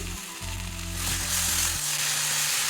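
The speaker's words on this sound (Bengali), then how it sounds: "আর এইটা দু তিন মিনিট একটু কষে নেব দুটো কাঁচা লঙ্কা দিয়ে দিচ্ছি" A curry base of tomatoes and green chillies sautés in a pan for a potato, drumstick and fish curry, giving a close, steady sizzle and frying crackle over a low hum.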